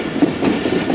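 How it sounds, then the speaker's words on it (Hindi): Jaffar Express passenger train rolling into the Rawalpindi railway station yard, a steady loud rumble of wagons with rhythmic clickety-clack of wheels over rail joints, close by and without talk. "रावलपिंडी रेलवे स्टेशन के यार्ड में ट्रेन दाखिल हो चुकी है"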